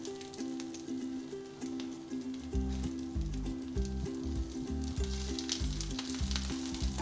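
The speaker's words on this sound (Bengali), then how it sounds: "আর গ্যাসের ফ্লেমটা কিন্তু একদম হাই করা যাবে না, একদম লো করে রেখে মাছটাকে ভাজতে হবে" Hilsa fish frying on a banana leaf over a low gas flame, a steady quiet sizzle and crackle, close up, with background music running underneath and no speech.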